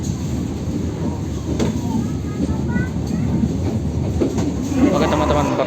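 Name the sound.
KA Cikuray train arriving at Kiara Condong station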